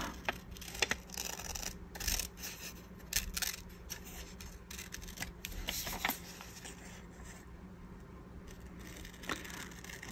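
Scissors snip through paper cigarette cards in a series of quiet, close, crisp cuts with irregular pauses, alongside faint rustling of the paper and no talking.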